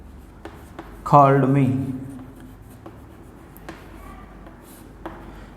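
Pen scratching on a surface as an English grammar example sentence is written by hand, faint taps and strokes spread across the moment, beneath a brief spoken phrase.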